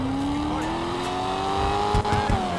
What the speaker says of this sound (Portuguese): Até o ronco do carro já é mais bonito, né, galera?